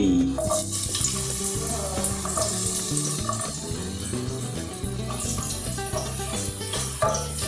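Garlic fries briskly in a pan for beef rice, giving a loud, close, continuous sizzle with stirring clatter throughout.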